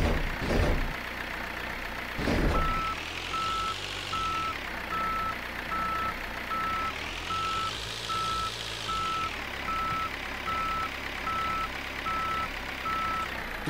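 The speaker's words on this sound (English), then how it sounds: "Good beeper." Forklift reverse beeper in Forklift Simulator 2023, a steady string of evenly spaced electronic beeps over a rising and falling engine drone, with a couple of thumps early on.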